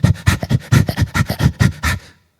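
A man imitates a dog panting during a church sermon: about a dozen quick, loud, breathy huffs in a steady rhythm, close to the microphone, ending abruptly.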